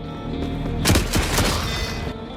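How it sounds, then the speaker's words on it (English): Gunfire in the extraction shooter The Forever Winter: a loud burst of two or three close shots in the middle of a steady game soundscape, with no one speaking. "Raid number 2, firing my gun twice."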